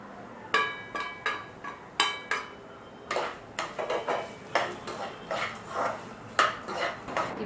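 Masala pori (spiced puffed rice) being stirred and roasted in a pan, with repeated scraping, clattering strokes of a spoon against the metal in an uneven rhythm, close and fairly loud, with no talking.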